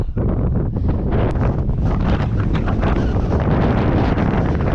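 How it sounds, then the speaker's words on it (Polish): Loud, constant gusting wind roars and buffets the microphone with a heavy low rumble throughout, with no voices, outdoors during metal detecting. "Wiatr nie ustępuje, a wręcz odwrotnie, chyba się jeszcze bardziej nasilił."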